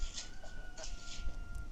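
A rooster crows faintly in the background, several brief calls rising over steady room noise during a darts tournament stream.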